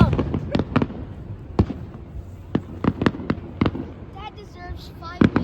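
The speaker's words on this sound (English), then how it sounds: "How do you feel about the fireworks right now, Brooke?" Fireworks burst outdoors at a Fifth of July display, a series of sharp, loud booms spaced irregularly with crackle between them, while people talk and exclaim in the gaps.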